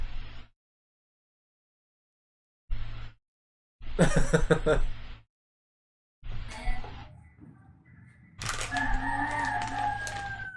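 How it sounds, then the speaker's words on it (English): A rooster crows repeatedly in bursts separated by silence, fairly near and loud, with some clucking fowl noises mixed between the calls. "Oh, they got a rooster too."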